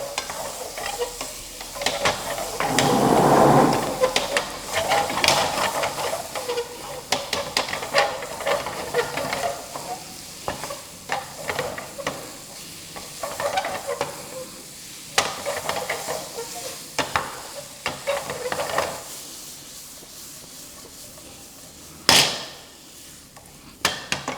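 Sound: paneer frying in a pan

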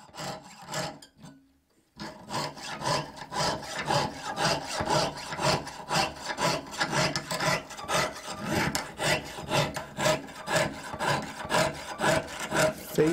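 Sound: hand saw sawing through metal

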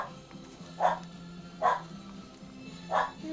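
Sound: puppies yipping

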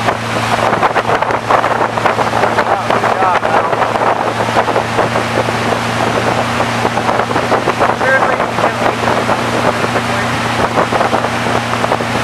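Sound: motorboat engine

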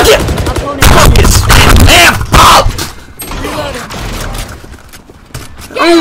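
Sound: sniper rifle shots in the video game Valorant

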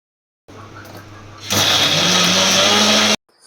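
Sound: mixer grinder grinding ginger garlic paste

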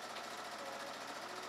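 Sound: sewing machine stitching a French seam on fabric

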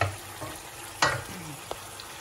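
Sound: frying bistek beef steak in a pan

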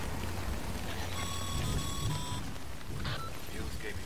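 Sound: rain in the video game Death Stranding

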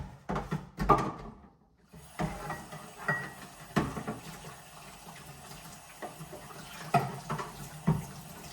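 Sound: washing machine parts by hand under running tap water

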